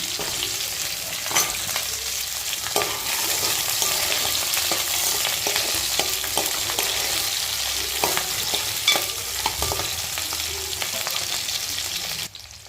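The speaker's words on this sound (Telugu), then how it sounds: "చిన్న ఉల్లిపాయలు వేసుకుంటున్నామండి బిర్యానీలోకి" Small onions fry in a pan for prawn biryani with a strong, continuous sizzle, broken by frequent stirring scrapes and clicks.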